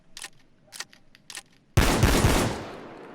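In Payday 2, a SPAS-12 (Predator 12G) shotgun is handled with a few short clicks and shell loading sounds, then a loud, close shotgun blast cracks out and its echo trails away.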